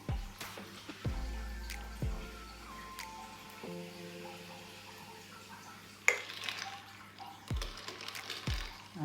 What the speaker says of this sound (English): Pour the tonic in.